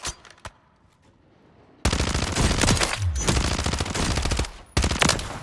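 An SMG firing in the Warzone video game firing range: a few isolated shots, then loud sustained rapid automatic bursts lasting several seconds, a brief pause and another burst at the end.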